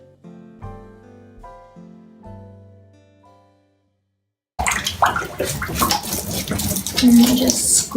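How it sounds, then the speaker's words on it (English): A wig is rinsed under a cold running tap, the water gushing loud and steady close by, preceded by a few seconds of soft piano-like music that fades into a brief silence. "I just run the wig straight under the cold water."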